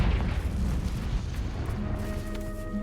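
Deep booming explosions from the Confringo fire spell in Hogwarts Legacy roll through a dense, rumbling low end, alone with no voices, the blast rumble sustained across the whole moment.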